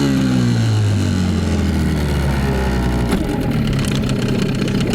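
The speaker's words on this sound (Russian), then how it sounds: "Давайте послушаем, как работает Тохацу." A Tohatsu 9.8 outboard boat motor runs loud and near, a continuous engine drone whose pitch shifts slightly early on, with no voices over it.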